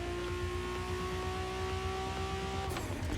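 Toyota Supra engine in the racing game The Crew Motorfest, a steady droning rev held at high pitch, then a brief shift and squeal near the end.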